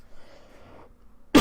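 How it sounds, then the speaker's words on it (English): A single sharp cough bursts out loudly near the end after quiet background murmur, close to the microphone. "a cough."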